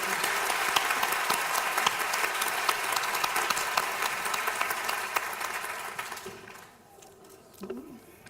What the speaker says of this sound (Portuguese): Eu queria pedir palmas para Maria Esther.